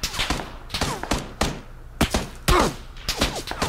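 Gunfire in PUBG striking the player: irregular bursts of sharp cracks and dull impact thuds, several clustered hits spread over a few seconds, moderately loud with no talk.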